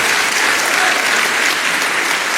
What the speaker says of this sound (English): Would you give them a round of applause and appreciate them?